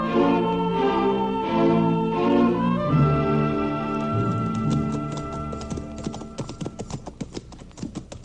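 Horses' hooves clip-clop in a steady rhythm, emerging near the end after a stretch of loud orchestral music and growing into crisp, regular hoofbeats.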